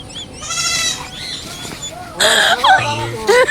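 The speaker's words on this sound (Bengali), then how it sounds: "ছাগল ধরে খাসি এটা" A castrated male goat bleats loudly a few times nearby, wavering cries separated by short pauses, with people talking in the background.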